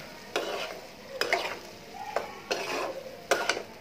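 Eggplant and potato stir-fried in a pan, with several scraping, stirring strokes of a spatula over a soft background sizzle, close and fairly quiet.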